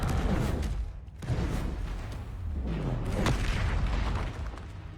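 Confringo blasting-curse explosions in Hogwarts Legacy, a few heavy booming blasts with sharp cracks, spaced about every second or two over a dense rumbling background of combat noise.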